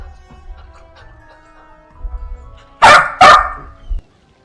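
A dog barks twice in quick succession, loud and close, after a stretch of quiet indoor background.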